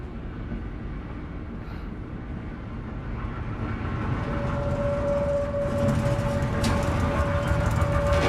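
A train or trolley in the horror game Amnesia: A Machine for Pigs rumbles in a heavy, continuous roll that grows louder, with a sustained whistle-like tone joining partway through.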